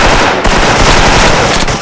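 Loud gunfire rings out in a shooter video game during a sniper rifle engagement, a dense close burst of rapid reports that fills the whole short moment, with no talk.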